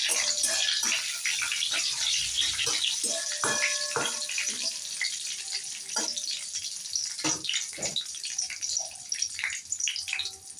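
Chilies and mustard seeds sizzle in hot oil for a Bengali cabbage fry, a steady crackling hiss broken by sharp pops and spatters, close and fairly loud for the whole stretch with no voice over it.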